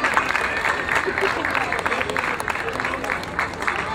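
Sustained applause from a crowd at the Light the Night walk in Philadelphia rolls on steadily and fairly loud, dense clapping with murmured voices mixed in.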